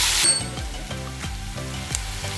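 Vegetables fry in hot oil in a pan for gobi paratha, a steady close sizzle broken by a series of rhythmic spoon or spatula strokes, with no voices.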